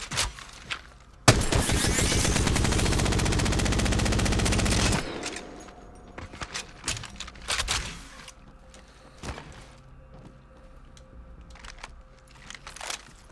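Devotion energy light machine gun firing in Apex Legends, with a short burst, then a sustained rapid-fire stream of several seconds, followed by scattered single shots, impacts and clicks.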